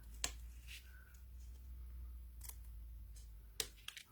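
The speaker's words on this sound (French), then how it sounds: "Ici, on va pouvoir couper nos languettes" Scissors snip paper tabs as a handful of sharp, isolated clicks spread across a quiet room with a low background hum, each cut brief and close.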